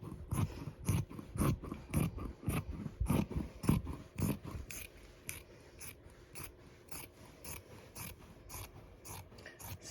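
Scissors snipping through fabric for an apron laid on a cardboard cutting board, a steady run of crisp close snips, heavier and faster at first, then lighter and more spaced toward the end.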